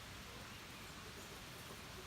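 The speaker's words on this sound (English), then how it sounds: "Got a little bit of a light rain going on." Light rain falling outdoors as Tropical Storm Michael moves in: a steady, even hiss of rainfall that holds constant throughout, with no distinct drops or thunder standing out.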